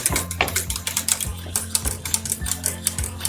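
A utensil stirring thickening béchamel sauce in a pot, with a brisk series of clinking, scraping strikes against the metal and a faint low hum beneath.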